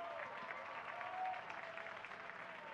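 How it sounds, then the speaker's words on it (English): Spectators at a USAC Midget race at Merced Speedway clap and applaud for driver Gavin Miller after his crash, a steady, fairly faint wash of distant clapping from the grandstand. "Give him a big round of applause"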